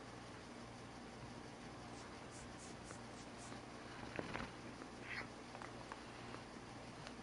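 A cat purrs in a low, steady drone close by, quiet and continuous, with a few faint ticks and rustles on top.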